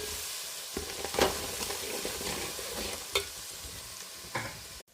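Curry leaves fry in hot tempering oil for a homestyle lemon pickle, a steady low sizzle with occasional sharper crackles and spatters, close and continuous with no talking.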